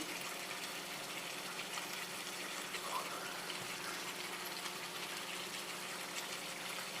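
Water pours steadily into a cooking pot of chicken rajela, a close, continuous gushing without a break.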